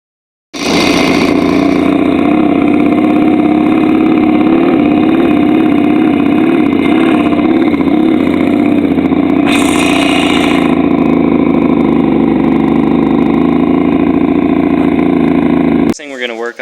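A 1973 Kawasaki S2A 350cc triple motorcycle engine runs steadily after a single kick start, its loud, close, buzzing two-stroke idle continuing without pause until it cuts off abruptly at the end.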